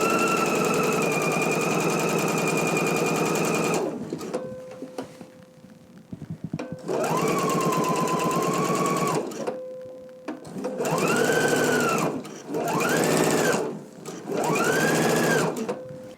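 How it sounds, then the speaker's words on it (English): A sewing machine stitches fabric for a top, a quarter inch from the raw edge, with long bursts of fast, even mechanical whirring that pause and restart several times, the last bursts shorter and rising and falling in pitch, close and loud. "I'm going to be stitching a 1/4 of an inch away from this raw edge"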